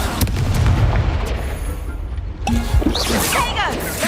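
A loud Confringo blasting spell explodes in a wizarding video game, a heavy booming crash with a rumbling tail that fades, followed by scattered game effects and a voice calling out.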